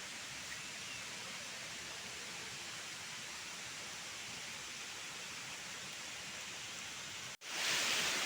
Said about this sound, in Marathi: डोंगरावरनं पाणी येते आणि इकडनं पण पाणी येतं आणि त्याचे असे छोटे छोटे धबधबे ओढे नाले तयार होतात